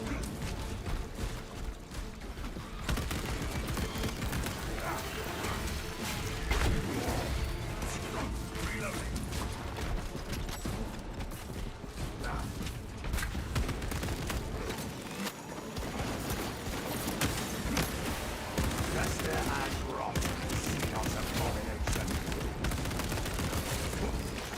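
Auto bolt rifle firing in a video game, dense rapid mechanical gunfire bursts running almost continuously with brief pauses, loud and close.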